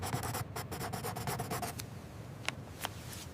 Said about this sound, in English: The meeting finishes and I write some notes